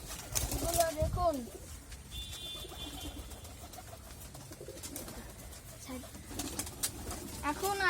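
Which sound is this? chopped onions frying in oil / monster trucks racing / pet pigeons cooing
pet pigeons cooing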